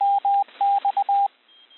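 Morse code CW tones: a single clear pitched beep keyed into a rhythmic run of long dashes and short dots, crisp and isolated, ending in near quiet.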